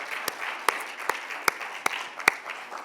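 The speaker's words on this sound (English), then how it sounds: "So let's give them a hand of applause." Sparse, slow hand claps from an audience at an education summit panel discussion, about six distinct claps spaced roughly evenly apart, fairly quiet against a faint room background.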